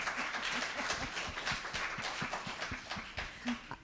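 Audience applause at a panel discussion, steady clapping from a room of listeners, moderately distant and fairly quiet, continuing for several seconds with scattered louder claps near the end.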